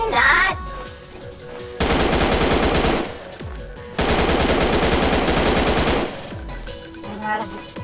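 Two long bursts of rapid automatic gunfire in the Friday Night Funkin FPS video game, each lasting about two seconds, loud and dense, separated by quieter gaps with game sounds.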